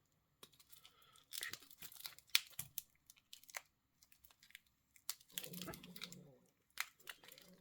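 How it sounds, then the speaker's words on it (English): A sticker is peeled from a new titanium wristwatch, close and quiet, in bursts of scratchy tearing and crinkling broken by short pauses, with some faint handling noise. "Trying to get this sticker off"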